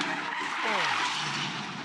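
Tyres skid and squeal as a V8 Ute race car crashes during a Gold Coast race, a loud sweeping screech over continuous engine and crowd roar, with no talk over it.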